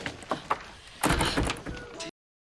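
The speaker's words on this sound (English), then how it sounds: "Shut the door!" A door is shut in the 2007 film The Mist, with a couple of light knocks followed by a louder sliding thud and rattle, then abrupt silence.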